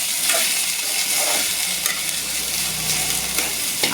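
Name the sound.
ladies finger (okra) frying on high flame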